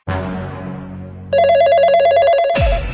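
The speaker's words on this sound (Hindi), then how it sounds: "जब भी मेरा मूड बनता है तभी तुम्हारा फोन बजने लगता है" A cartoon telephone rings in an animated comedy short: a falling tone, then a rapid trilling bell that runs steadily and loudly for over a second before cutting off abruptly.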